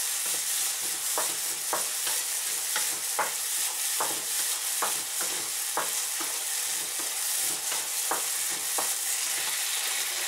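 Onions sizzle steadily in a pan while brown sugar is stirred in, and a spoon or spatula scrapes and taps in a quick irregular rhythm over the constant frying hiss, close up with no talk.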